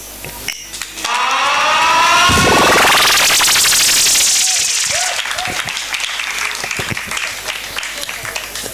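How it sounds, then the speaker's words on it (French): An audience at a competition applauds, loud sustained clapping that swells after a brief sweeping tone and holds for several seconds before thinning. "Ça mérite vraiment beaucoup d'applaudissements."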